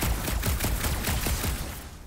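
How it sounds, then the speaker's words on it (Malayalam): Dense, rapid gunfire from Marvel's Guardians of the Galaxy as the player shoots up objects, a loud and continuous volley of overlapping shots that thins out slightly at the very end. "ഇതെല്ലാം വെടി വെച്ച് പൊട്ടിക്കാൻ പറ്റും"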